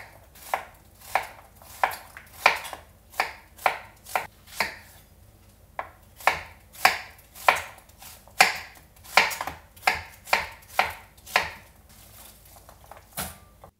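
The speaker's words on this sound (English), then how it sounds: "Now I cut this in half lengthwise first, and then in half the long way, and then cut it into about 1/2 inch thick slices." A knife slices through an onion on a cutting board for Japanese chicken curry, about twenty crisp, evenly spaced chops close by with a short pause midway.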